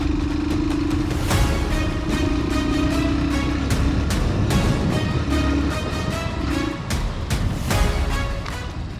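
A Hero Super Splendor Xtec 2.0 125cc motorcycle on the road, its engine droning loud and steady throughout with surges as it accelerates and rough clattering from the ride, no talking.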